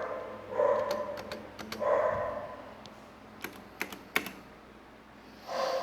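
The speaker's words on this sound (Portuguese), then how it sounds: "Eu vou apertar as teclas aqui do espaço para vocês ouvirem." Keys clack on a Logitech G Pro Mechanical gaming keyboard, a few separate sharp presses near the mic, spaced irregularly, with a soft low hum beneath.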